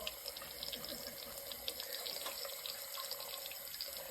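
Tap water running steadily into a sink while a cat plays in the stream, a constant close hiss with small splashes, no talking.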